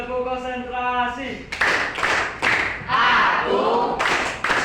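A classroom of pupils doing a rhythmic group clapping chant, several sharp synchronized claps in a patterned rhythm, preceded by a sustained sung or chanted vocal tone, fairly close and loud.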